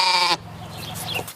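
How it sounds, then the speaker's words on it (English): A stray lamb roaming city streets gives one clear, loud bleat up close, followed by quieter rustling. "taking care of a wayward sheep until its owner is found"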